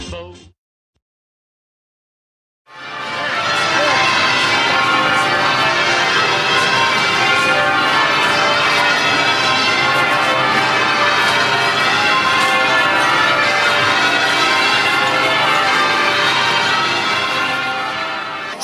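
Church bells in the City of London, including the great bell at Bow, ring in a loud, dense, continuous peal that starts abruptly after a brief silence and carries on without pause.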